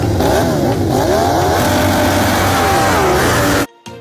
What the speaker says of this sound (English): This is a motorcycle.